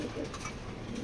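Pedigree racing pigeons in cages coo in a dense, close, overlapping murmur for a brief moment.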